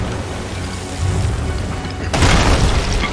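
A single deep cannon boom from a ship's cannon in a video game bursts in after a low rumbling background, loud and close, with a rushing blast that trails off.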